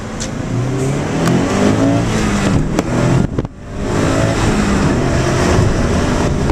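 A Subaru STI's turbocharged engine revs hard and holds a loud, rising roar. It briefly cuts out with a sharp dip, then climbs back up and sustains the rev.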